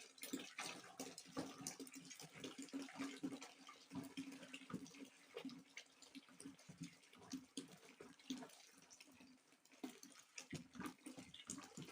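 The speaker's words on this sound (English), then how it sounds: "We are pouring our hot water." Hot water being poured into a blended kunu drink mixture, a steady splashing, gurgling liquid stream running continuously up close with small surges and spatters throughout.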